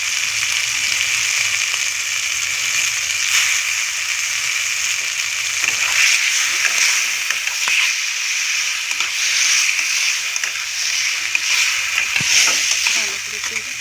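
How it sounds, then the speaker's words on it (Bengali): Chicken bones and pre-fried potatoes with spices stir-fry in a pan, a loud continuous sizzle with repeated scraping stirs and occasional clinks running throughout, close and steady with no talking. "ভালো করে একটু কষিয়ে নিতে হবে, গন্ধটা চলে যাবে।"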